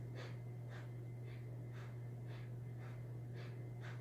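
A voice imitates soft, rhythmic breathing, several gentle in-and-out breaths evenly paced over a low steady hum, quiet and close.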